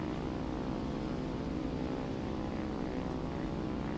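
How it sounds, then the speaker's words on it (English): An Fw 190 fighter from War Thunder flying, its propeller engine a steady, loud, unbroken drone with no talk over it. "This aircraft feels like it flies just fine."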